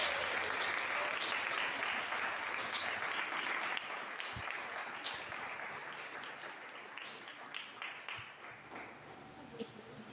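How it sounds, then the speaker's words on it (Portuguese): A church congregation applauds in praise during a service, producing dense sustained clapping that fades slightly over time, with a faint voice underneath. "Vamos aplaudir o Senhor."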